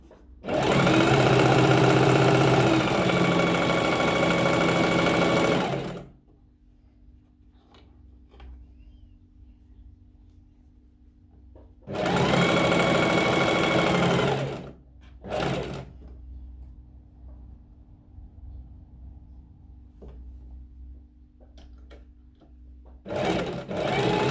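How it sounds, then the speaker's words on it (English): A sewing machine stitches pleats at a half-inch seam in cushion cover fabric, running in long, loud whirring bursts separated by quieter pauses with a low hum and faint handling noises. "You keep on sewing at 1/2 inch until you've made all the pleats on the entire piece of fabric."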